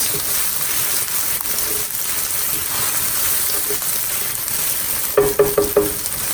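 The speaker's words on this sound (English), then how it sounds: "We want to cook the garlic and ginger for about a minute." Garlic and ginger fry in a pan with a steady, even sizzle throughout, close and fairly loud, joined near the end by a quick run of four scraping stirs.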